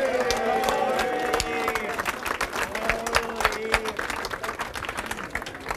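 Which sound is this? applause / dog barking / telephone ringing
applause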